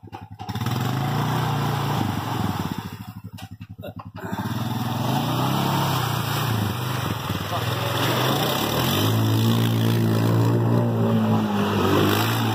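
A 2018 Honda Rancher 420 ATV engine runs steadily nearby in Hurricane Florence flooding, a continuous low mechanical drone with a brief dip early on, while people talk over it.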